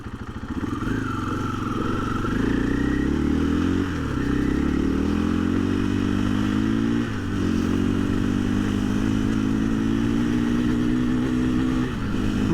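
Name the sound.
KTM 500 EXC-F motorcycle accelerating through the gears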